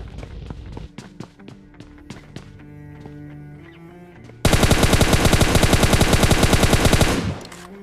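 Gunfire through walls in the mobile game PUBG Mobile: scattered single shots and taps at first, then a sudden loud sustained burst of rapid automatic fire lasting a few seconds before cutting off.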